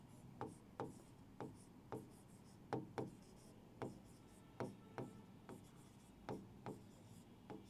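A pen or chalk writes on a surface in a classroom lesson, soft scratchy strokes in short irregular bursts, close but faint, with no talking.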